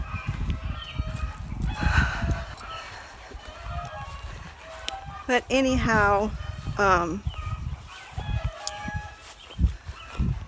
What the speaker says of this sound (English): those chickens started in again